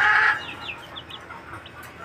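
A Black Australorp cross hen gives a short burst of clucks up close, followed by softer scattered clucking and faint chick peeps.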